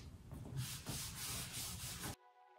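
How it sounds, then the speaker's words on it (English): Dry cloth rubbing back and forth over a wooden antique desk, wiping off excess finish in steady close strokes for about two seconds before stopping, with no talk. "you just go back with a dry cloth and wipe off any excess"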